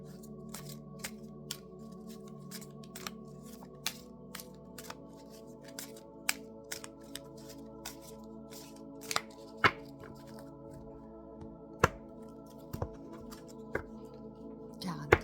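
Oracle cards being shuffled and handled produce quiet, scattered taps and flicks that come close up, irregular and sparse, over a soft steady background tone.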